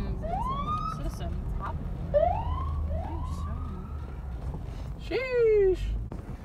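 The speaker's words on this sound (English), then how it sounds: "It's an ambulance." An ambulance siren passes nearby, its wailing tones sweeping up and down in several separate rises, with a continuous low background rumble underneath.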